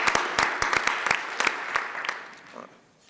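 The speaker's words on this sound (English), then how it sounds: "Let's give them a round of applause because this was an enormous job." Scattered applause from a meeting audience, made of sharp separate claps that start loud and thin out over three seconds.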